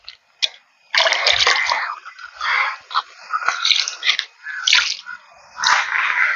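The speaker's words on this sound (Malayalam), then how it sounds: "ഇതിപ്പോ നമ്മള് വഴുതിനിക്കും വെണ്ടയ്ക്കാണ് ഈ പച്ച ചാണകം ഇപ്പൊ കലിക്ക് ഒഴിക്കുന്നത്" Green cow dung slurry is poured onto brinjal and okra plants, making a series of close, wet splashes and splatters in bursts separated by short pauses.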